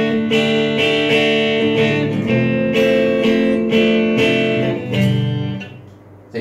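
Electric guitar through a Boss ME-25 multi-effects unit on its twin clean preset, sustained clean chords ringing with a shimmering, full tone, played continuously and close, no talking.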